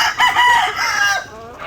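Barred White laying hens cluck and crow close by, several overlapping calls in quick succession with a steady background hiss, during heavy rain.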